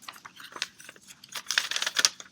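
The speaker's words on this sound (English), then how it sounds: "I'm going to get my scissors and I'm going to cut my pieces out" Quick, crisp snips of scissors slicing through paper, a series of close, light cuts that grow busier toward the end.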